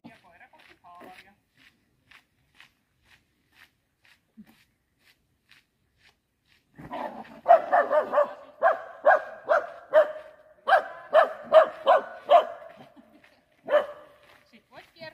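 A Mudi dog barks in a series of sharp, close barks during a temperament test, with most of the barking in the second half. A person speaks faintly near the start.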